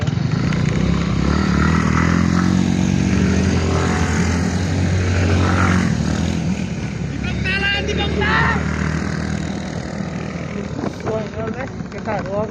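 Several scooters ride along a road near Tangtal on the way toward Jhulakot, a steady loud engine drone running throughout with wind rush, while people talk over it.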